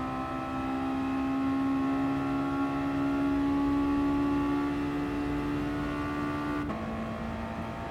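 A Mazda Roadster touring car races at Mount Panorama in GT Sport, its engine holding a steady sustained drone, then dropping pitch abruptly near the end as it shifts or lifts off, loud and continuous.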